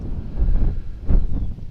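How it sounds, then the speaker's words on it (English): Strong southeast wind off the Atlantic on eastern Long Island buffeting the microphone, low rumbling gusts that rise and fall, loudest in a surge near the middle, with no voices. "it's pretty windy here"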